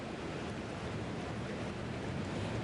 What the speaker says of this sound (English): the Reedy River has overflowed over the banks